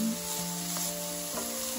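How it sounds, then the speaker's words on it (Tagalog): Pancetta frying in a hot pan, a steady soft sizzle with a faint hum underneath, quiet and without talk. "mainit na po ang kalan at ilagay na po natin ang ating pancetta"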